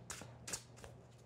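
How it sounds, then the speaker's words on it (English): A deck of cards being shuffled by hand, with a few quick riffling bursts close up over a low steady hum, no talking. "That was a false shuffle."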